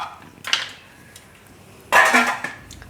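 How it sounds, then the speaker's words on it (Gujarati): A metal kadhai, an Indian wok, clanks and scrapes in two sharp bursts as it is lifted and set down on a stove, close and fairly loud with a quiet pause between. "તો આપણે કઢાઈ લીધી છે"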